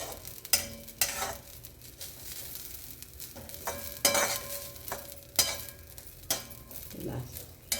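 Mint leaves (pudina) roast in a pan on the stove with a soft sizzle, while a spoon stirs and scrapes against the pan in repeated sharp strokes.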